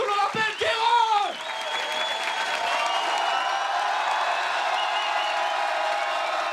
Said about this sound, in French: Gardez vos applaudissements pour l'homme que l'on appelle Kairon!